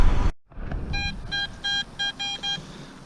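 A metal detector sounds six short, tonal beeps in an even rhythm, clear and fairly loud over faint outdoor background noise, following a brief rustle and a moment of quiet.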